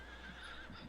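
A horse in a Farming Simulator 25 farm game lets out a quiet, thin neigh over a steady low background hum, with no talking.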